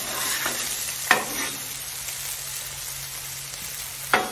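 Bacon frying on a flat grill during patty melt prep, a steady close sizzle with a few sharp scrapes from a metal grill scraper near the start and end.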